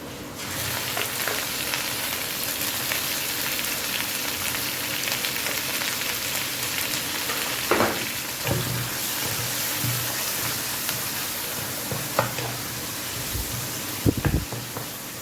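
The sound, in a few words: onions frying in oil with fish fat for katla fish curry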